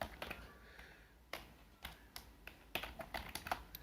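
Keys tapped on a computer keyboard in short irregular bursts of clicks, close and fairly quiet, with no talk over them.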